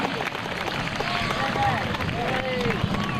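An air show crowd applauds and cheers for a US Air Force Reserve C-17 Globemaster III demo team, with steady clapping and crowd noise throughout and a voice faintly audible over it.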